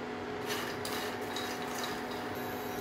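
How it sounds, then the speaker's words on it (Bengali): Makhana (lotus seeds) dry roasting in a pan over low heat, with a soft, continuous rasping and rubbing as the seeds are stirred against the metal under a steady background hum. "লো হিটে আমি এটাকে ভাজা করে নিচ্ছি।"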